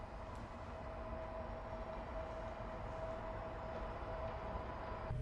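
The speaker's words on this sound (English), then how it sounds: "In the augmented reality world, here is a train station, as you can see from our device." A train station hums with a steady, faint, broadband rumble and a low tonal drone, heard without speech.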